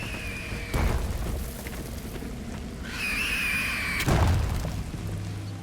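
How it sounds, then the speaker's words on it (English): Explosion of a Reaper indoctrination device in Mass Effect Legendary Edition: two sharp booms a few seconds apart among game effects and a bright whine, loud and close. "Indoktrinationsgerät der Reaper zerstört."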